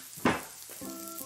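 Garlic drops into hot sesame oil with one short, bright sizzling burst, then settles to a soft fry under faint tonal background music.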